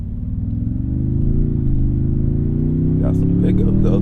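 A 2024 Toyota Tundra TRD Pro pickup accelerates, its engine rising in a low steady drone heard from inside the cab, with faint brief knocks toward the end.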